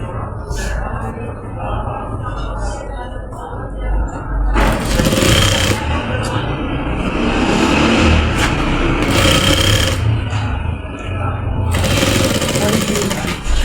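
A sewing machine runs in bursts while stitching a shalwar pocket, its motor whirring loud and close beneath a person talking throughout.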